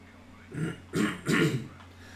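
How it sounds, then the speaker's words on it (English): A man with a sore throat coughs three times in quick succession, rough throaty bursts close to the microphone, the last the longest, with quiet background between and no speech. "I'm just going to cough here, guys"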